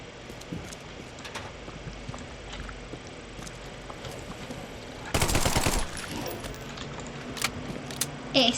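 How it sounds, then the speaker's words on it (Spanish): Machine gun fire in the horror game The Sinking City, a dense, loud burst lasting under a second amid faint game ambience, with a few scattered sharp clicks before and after; no talking. "Tengo una ametralladora"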